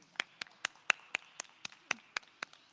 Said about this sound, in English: Another round of applause for Mondli Ngcobo.